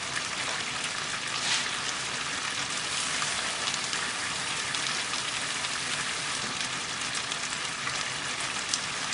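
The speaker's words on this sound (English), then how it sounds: "I'm going to add another litre of water." A litre of water pours into a curry base sauce cooking in a pan, producing a steady, even hiss and rush of liquid with bubbling sizzle, unbroken for the whole span with no voices.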